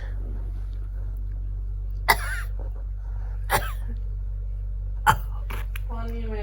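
A person coughs in short, sharp bursts, three distinct coughs spaced a second or more apart over a steady low hum, with brief talk nearby.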